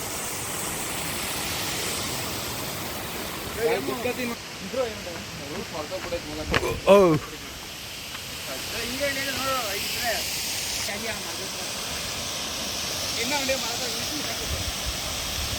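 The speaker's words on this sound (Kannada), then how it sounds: "ಫಾಲ್ಸ್ ಅಂತೂ ಸಖತ್ ಭಯಂಕರವಾಗಿದೆ ಗೈಸ್" A powerful waterfall at a hidden forest falls near a cave, its steady roaring rush filling the scene, with people talking over it in bursts and a few sharp knocks partway through.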